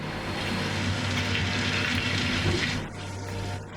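Water pours from a bucket in Gold Rush: The Game, a steady gushing splash that runs for about three seconds and then cuts off, with a little quieter trickle afterward.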